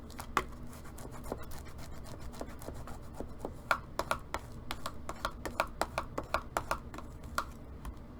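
A folded paper box gets burnished by hand, a quiet run of short rubbing and scraping strokes in an irregular rhythm, close and soft with occasional sharper scratches.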